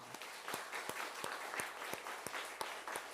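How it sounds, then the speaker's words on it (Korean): A church congregation applauds the standing elders during a service, the sound faint and distant, with a few sharp claps standing out at an even pace over a soft spread of clapping. "우리 격려 박수 한번 드리겠습니다."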